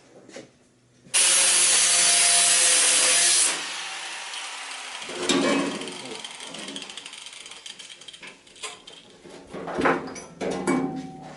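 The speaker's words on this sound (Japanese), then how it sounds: "ここに燃料ポンプが来るんで、ここに穴を開けます。" A power tool cuts a hole in a Miata car body for a fuel pump: a loud steady whine for a few seconds, then scattered metallic clanks, scrapes and handling noises nearby.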